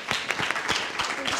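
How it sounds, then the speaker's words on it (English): Audience applause at a youth speech competition, a short burst of scattered claps with a voice briefly over it. "Let's give her a warm round of applause."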